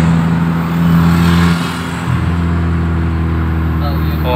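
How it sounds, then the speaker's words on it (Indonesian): A Suzuki Ertiga with a racing exhaust revs close by, its deep droning engine note swelling briefly and then settling back to a loud steady idle. "baca kedengeran suara knalpotnya racing niat."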